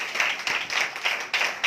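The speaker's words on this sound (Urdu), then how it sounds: "آئے اس کے لیے زوردار تالیاں بجائیں" A church congregation at a Friday prayer meeting claps loudly in rhythmic bursts. About four surges of hand clapping rise and fall in quick succession, close and energetic.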